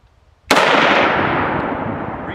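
A single loud, sharp shot from a St. Etienne model 1892 Berthier artillery carbine loaded with 200 grain PPU full metal jacket cartridges, fired through a single shot adapter, with a long, fading echo trailing off afterward.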